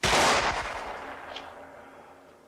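Firing squad volley: a single loud, close burst of rifle fire with a sharp crack that decays into a fading echo over about two seconds.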